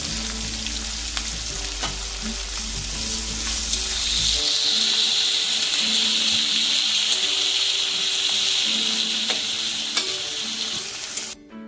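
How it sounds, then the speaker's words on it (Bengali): Chopped onions, salted, fry to a near-brown color in oil for Bengali chicken kasha, making a loud, close, continuous sizzle with occasional stirring scrapes that cuts off abruptly at the end. "আমাদের পেঁয়াজটা ভাজা ভাজা হয়ে গেছে, প্রায় ব্রাউন কালার।"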